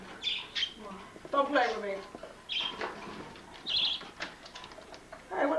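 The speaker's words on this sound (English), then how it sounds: "Flying bird on the loose." A loose pet bird flaps and calls indoors, with bursts of wingbeats and sharp chirps scattered across the clip while a person speaks briefly in between.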